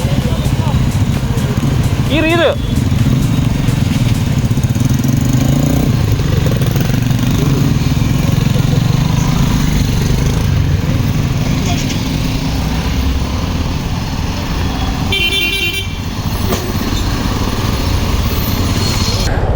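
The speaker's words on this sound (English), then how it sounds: "So I'm riding the Xpulse 2V. This is a rented motorcycle" A Hero Xpulse 200 motorcycle engine hums steadily while being ridden on a back country trail in Coorg, a continuous near rumble. A brief voice is heard over it.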